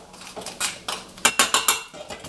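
A spoon stirs bubbling gluten-free spaghetti sauce in a metal pot, knocking and scraping against the sides in a steady run of close clinks with no voices.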